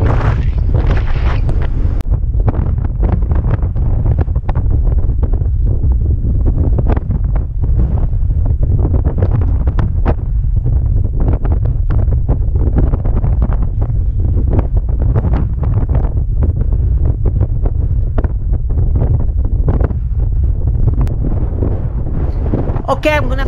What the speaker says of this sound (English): It's so windy, so...